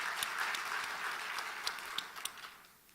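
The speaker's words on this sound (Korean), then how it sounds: "우리 박수로 한번 하나님께 영광 돌리고 경배하십시다" A church congregation at a Sunday worship service claps for a few seconds, with dense, lively applause that thins out toward the end.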